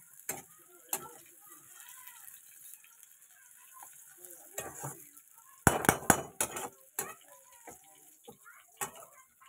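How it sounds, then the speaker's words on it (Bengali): Fried okra lifted out of a frying pan, scattered metal utensil clinks and scrapes against cookware with a faint sizzle, a busy cluster of knocks midway, fairly quiet overall. "ভেন্ডিটা আমি এবার নামিয়ে নিচ্ছি।"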